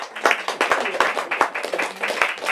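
Audience clapping after a panel talk on public transit riding, a burst of many hands with sharp irregular claps, fairly close and moderately loud, briefly overlapped by a voice.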